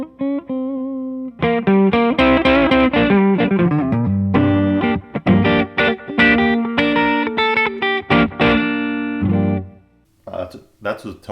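Epiphone '59 Les Paul electric guitar played through effects, a loud run of sustained distorted chords and single notes with chorus and reverb, ringing out then stopping before a few final strums.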